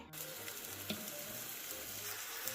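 Zucchini pancakes fry in a pan with a steady, even hiss of sizzling oil, continuous and fairly quiet, with a few small pops and no talking.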